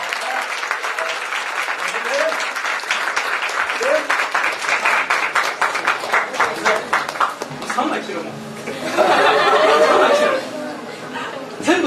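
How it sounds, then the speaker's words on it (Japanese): An audience claps to welcome performers onstage at a live music event, steady applause mixed with chatter and a little laughter, with a louder swell of cheering near the end. "拍手でお迎えください"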